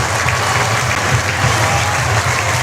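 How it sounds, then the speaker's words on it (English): Stadium crowd roaring and applauding after a home run at a Great Britain versus Netherlands European Championship baseball game, a dense, loud, sustained wall of cheering and clapping with no gaps. "crowd goes absolutely wild here"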